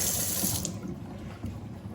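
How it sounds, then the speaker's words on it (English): Water swirling and draining from a stopped-up kitchen sink through a newly installed basket strainer, a steady close gurgling rush with no voices. "we'll stop up the sink and we'll test. And let her drain."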